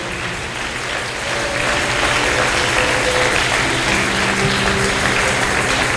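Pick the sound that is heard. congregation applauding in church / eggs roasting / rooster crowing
congregation applauding in church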